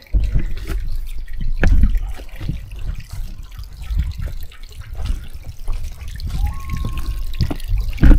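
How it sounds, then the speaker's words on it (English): Water from a homemade pond waterfall splashes and trickles close by in an uneven, steady flow, with a brief faint tone toward the end. "we've got our waterfall going again."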